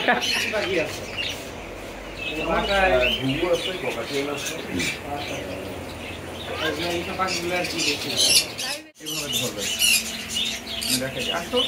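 A pet bird at a bird doctor's squawks and chirps in scattered bursts, mixed in with steady nearby conversation between people.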